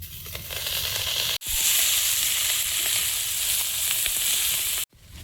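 Mixed leafy greens dropped into hot oil in a wok, tempered with dried red chillies, whole cumin and chopped garlic, give a loud, steady frying sizzle. A brief cut interrupts it, and then the hissing carries on alone.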